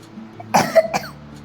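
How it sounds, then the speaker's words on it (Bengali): Two short, harsh coughs close by, the second a little weaker, in an otherwise quiet room. "কাশি হচ্ছে"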